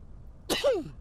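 A single short sneeze from a video game character, a sharp burst followed by a falling vocal tail, fairly close and clear against a quiet background.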